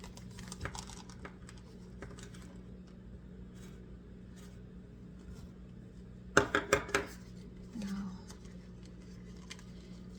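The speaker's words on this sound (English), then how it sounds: "Now they want us to stir these raisins in." Raisins being stirred into thick lemon cream cheese cookie dough, with a spoon knocking against the bowl in a short burst of clacks partway through, over a low steady hum.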